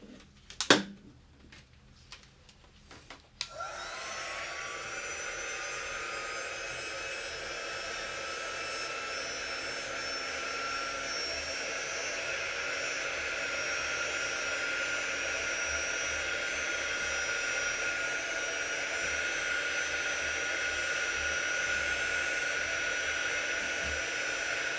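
A hair dryer runs steadily at close range, drying chalk paste on a craft transfer. A few clicks and knocks come first, then the blower starts and holds a constant loud whoosh with a faint whine to the end.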